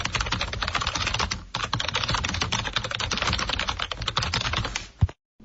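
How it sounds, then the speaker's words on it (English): Rapid, steady typing on a computer keyboard, dense clicking keystrokes running continuously with a brief pause near the start, ending in a sharp final key tap before silence. "I think that was a keyboard."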